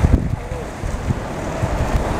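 Steady wind gusting outdoors near a tower, buffeting the microphone with low rumbling bursts over a continuous airy rush for the whole stretch.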